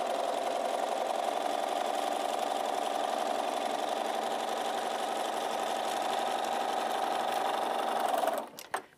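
A sewing machine runs steadily for about eight seconds, stitching a scant quarter-inch seam on quilt half-square triangles, close and continuous with no talk, then stops abruptly near the end.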